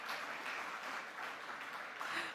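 Quiet, even applause from the audience at a banking and finance association's annual meeting greets a State Council member from Oman, continuing steadily without a break and with no talk over it.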